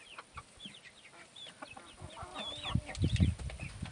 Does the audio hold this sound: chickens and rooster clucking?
yes